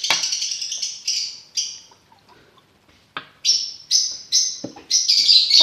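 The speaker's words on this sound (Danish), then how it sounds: "larmen i baggrunden, det er vores fugle" Pet birds chirp in a home, sharp high tweets coming in quick bursts and short trills with brief gaps between them, moderately close and clear against an otherwise quiet room.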